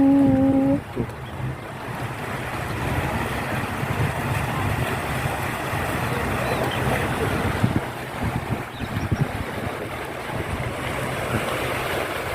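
Evening sea waves washing onto a beach, a steady broadband wash with wind buffeting the microphone, close and continuous, with a few brief tonal notes at the very start and no talking.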